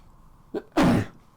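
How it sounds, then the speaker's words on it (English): A single close sneeze: a short sharp intake followed by one loud burst, otherwise quiet. "I'm just literally about to sneeze"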